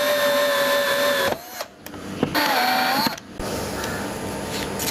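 A power drill drills a hole in a Proton Inspira car to mount a camera, whirring steadily, pausing briefly, then revving again in a second burst before a lower mechanical hum continues.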